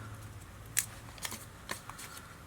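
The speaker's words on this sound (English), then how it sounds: "fold it, you'll hear it cracking." A Dorco razor blade snaps as it is folded inside its paper wrapper, giving a few sharp, quiet cracks and crinkles spaced over a couple of seconds against a faint hum.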